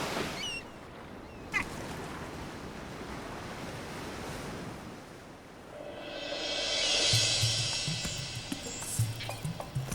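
Ocean waves wash ashore in a steady roar, building into a louder, hissing surge of breaking surf toward the end, with wind buffeting the microphone.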